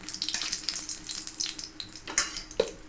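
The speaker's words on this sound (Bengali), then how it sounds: "ওই কড়াইয়ের মধ্যে দিয়ে দেবো একটা তেজপাতা, 2টো দারচিনি, 2টো ছোটো এলাচ ফাটিয়ে নিয়েছি" A bay leaf, cinnamon sticks and cracked cardamom pods sizzle in hot oil in a pan, giving a soft steady crackle with a few sharper pops.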